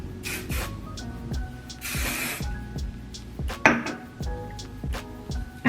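Hairspray hisses from a can onto hair in a few short bursts, set among clattering and tapping sounds from handling objects nearby, all fairly quiet.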